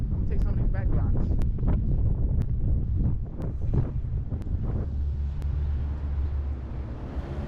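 Strong, cold wind buffets the microphone on a Philadelphia city street, gusting in heavy bursts with sharp clicks and knocks, then settles into a lower, steady rumble.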